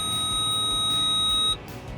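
A Case IH Magnum tractor's engine overspeed alarm, set off at full throttle with the PTO engaged, gives a steady high electronic tone for about a second and a half, then cuts out, leaving a low engine hum.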